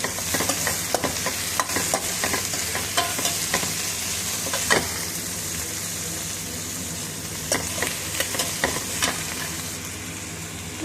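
Dry red chillies, green chillies and tomato fry in a pan, a continuous close sizzle broken by frequent sharp stirring clicks and scrapes.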